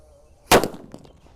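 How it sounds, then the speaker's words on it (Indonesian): A petir firecracker explodes once with a sharp, loud bang, followed by a brief decaying echo and a faint crackle, outdoors at night after near-silence. "Untuk mercon selanjutnya ini namanya petir. Kita nyalakan. Sudah menyala."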